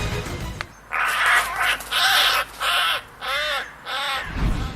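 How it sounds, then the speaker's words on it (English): A crow caws four or five times in a steady series of harsh, loud calls, each separated by brief pauses. "Number 15. Crow."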